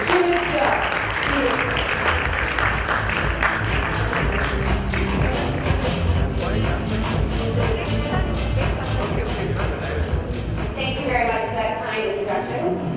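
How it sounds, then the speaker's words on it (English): A sustained round of crowd applause fills a conference hall, dense and even throughout, with talk running underneath and a voice emerging toward the end. "Can we please have a loud round of applause"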